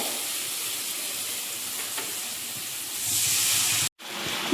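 Water poured into a pan of spice masala for Ritha fish kosha sizzles and hisses steadily, swelling louder toward the end, cutting out for a moment and then resuming.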